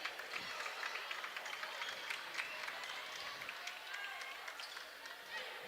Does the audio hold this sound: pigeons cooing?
no